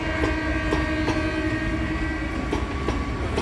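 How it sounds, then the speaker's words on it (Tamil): A Chennai electric suburban train from Ambattur to Central runs steadily with a constant close rumble and wheel clatter, periodic rail clicks punctuating the continuous drone, and no talk. "எலக்ட்ரிக் ட்ரெயின் மெதுவாக போகும்"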